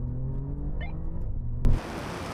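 Alfa Romeo Giulia GTA and Giulia Quadrifoglio accelerating hard in second gear from 50 km/h, a steady close engine rumble that ends in a brief loud burst of wind-like roar.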